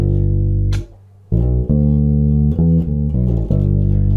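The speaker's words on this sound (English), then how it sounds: "Now this is the first bass line that we're going to look at," Fender P bass playing a slow 12/8 blues line in G, a long low opening note, a short gap, then a run of deep plucked notes in a loping rhythm, loud and close with no voice.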